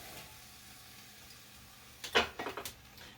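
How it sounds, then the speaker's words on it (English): Peppers and onions hit a hot soup pot, a faint background hum broken by a sudden sharp sizzle burst followed by a few quick stirring scrapes and clatters. "So I'm going to get started by putting my peppers in here"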